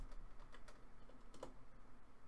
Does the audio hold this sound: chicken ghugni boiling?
no